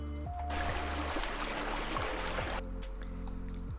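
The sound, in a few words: water flowing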